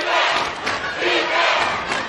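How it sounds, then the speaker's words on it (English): A partisan crowd at a Florida girls' high school state semifinal basketball game chants defense in loud, rhythmic waves, the massed voices rising and falling in a repeating two-beat pattern that fills the gym. "And a pro Ribault crowd here today. A chant of defense."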